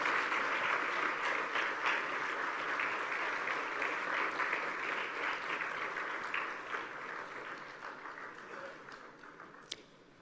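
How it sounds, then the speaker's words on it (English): Audience applause at the opening session of the Commonwealth Women's Forum, a dense, even clapping wash that gradually thins and fades over about ten seconds, with one sharp clap near the end. "We can give them a round of applause as they"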